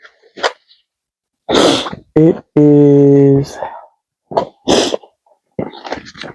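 Two sharp, loud sneezes burst out close by, separated by stretches of speech from a person talking.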